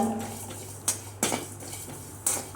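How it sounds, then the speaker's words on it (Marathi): Cumin and whole spices dry roasting in a pan, a quiet backdrop broken by three or four sharp metallic clinks and scrapes of a utensil against the pan, close by. "जिरेही थोडंसं हलकंसं भाजून झालं की त्यामध्येच खडा मसाला टाकून भाजून घेऊया"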